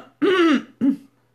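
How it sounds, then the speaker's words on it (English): A man clears his throat, two close, rough bursts, the first longer and the second short, with nothing else around them. "had to clear my throat a little bit with that"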